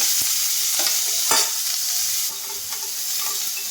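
Steady sizzling of tomatoes frying in hot oil after mustard seeds, with a few clinks of a utensil stirring the pan; no voices.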